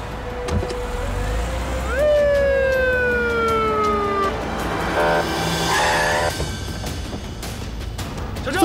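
A police car siren wails in a drama scene, rising and then sweeping down over a couple of seconds, loud and close above traffic and engine rumble.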